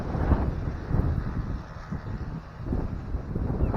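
Outdoors, strong wind buffets the microphone, making a continuous low rumbling roar that swells and dips unevenly throughout, with no voices.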